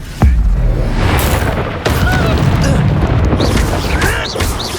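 A spell burst in the Hogwarts Legacy game, a loud booming magical blast that starts sharply and then rolls into a dense, sustained roar of combat effects, with a voice speaking briefly at the start.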